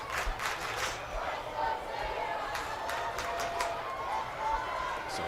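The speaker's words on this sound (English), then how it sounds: "All their teams jumping, cheering." A girls' lacrosse team's sideline at Farmington jumps and cheers during a game. A distant, faint crowd roar with scattered shouts runs steadily throughout.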